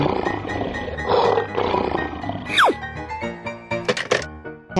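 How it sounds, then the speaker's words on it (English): A lion roars in a loud animated cartoon-style sequence, the growl landing among music and sound effects with a sharp swooping whistle just before it. "Lion."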